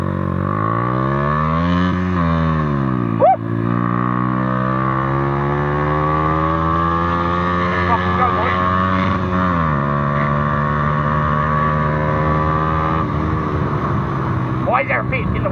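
A motorbike engine revs and holds a droning tone with rising and falling pitch, broken by a few sharp exhaust pops, while a voice talks over it.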